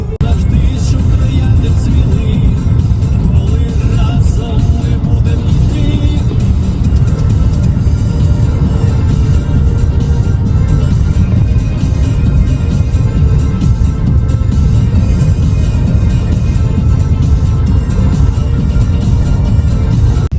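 A car drives along a road toward a shop in the Carpathians, with steady engine and road rumble heard from inside, continuous and fairly loud for the whole stretch.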